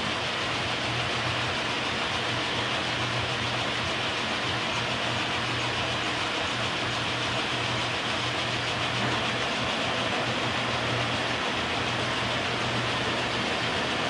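A K&T milling machine runs with the clutch engaged and the spindle at its lowest speed, a steady close mechanical rumble with a low hum and rattle that holds evenly for about fourteen seconds.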